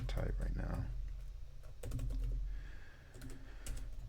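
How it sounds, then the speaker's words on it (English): Rapid clicking keystrokes on a computer keyboard while coding, close and fairly quiet, coming in short bursts with a person talking over them. "why can't I type right now?"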